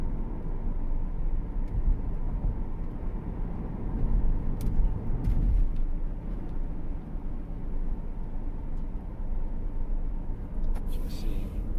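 Ford C-Max Energi plug-in hybrid cruising down a long hill, heard as a steady low road and cabin rumble with muffled tyre noise throughout, no voices.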